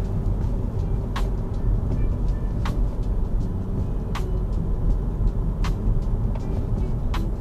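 Road noise fills the cabin of a Wuling Cortez Turbo driving on a quiet residential street: a steady low rumble with regular faint ticks about every second and a half.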